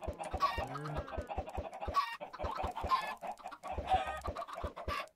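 Minecraft chickens cluck repeatedly in a close, busy chorus of short clucks from several birds, with quick gaps between bursts.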